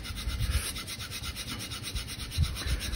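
The heel of a straight razor is honed on a diamond whetstone, a close, quiet rhythmic rasping as the blade is stroked back and forth in quick repeated passes.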